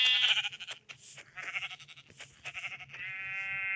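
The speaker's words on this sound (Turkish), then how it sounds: "Aa koyunlar varmış. Koyun." Minecraft sheep bleat in overlapping, wavering cries, several calls in a row, loud and close, ending in a long drawn-out bleat over a faint low hum.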